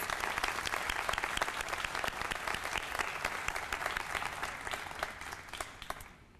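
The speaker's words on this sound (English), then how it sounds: "I'd like to give one more round of applause to these organizations" A room full of people applauds steadily at an awards ceremony, dense clapping holding strong before tapering off near the end.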